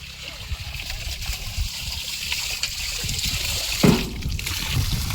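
Water trickles and flows steadily from a tank into a dug pit used for watering buffaloes. It is close and continuous, with a brief splash near the end.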